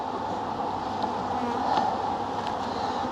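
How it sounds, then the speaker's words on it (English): Honey bees hum inside a late-October hive full of heavy food frames, a dense, steady buzzing drone heard up close and unbroken. "So this is how your bees should look like right now, you know, by the end of October."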